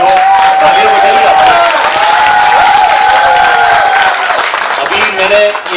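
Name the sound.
audience applause at a retirement farewell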